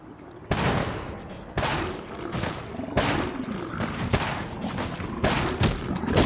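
Gunfire in the video game Fallout 4 Far Harbor: a series of loud, booming shots, about six evenly spaced blasts, each followed by a long rumbling tail, close and alone.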